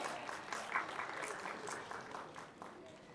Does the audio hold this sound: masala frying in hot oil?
no